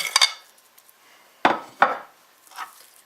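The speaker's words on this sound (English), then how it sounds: "Mush everything down." Potato pie filling mashed down into a dish: a few sharp, close clatters and scrapes of a utensil against the dish, separated by quiet gaps, with no talk.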